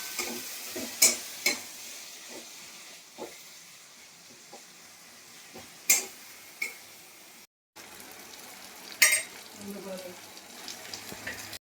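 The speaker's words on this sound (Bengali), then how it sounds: "তারপরে দুটো কাঁচা লঙ্কা দিয়ে মশলাটাকে একটু ভালো করে কষবো" Spice paste with dry chili powder and two green chilies is sautéed in a pan, giving a soft sizzle and scattered sharp scraping and stirring knocks, moderately near, with a brief dropout partway through.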